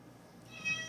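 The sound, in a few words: cat meowing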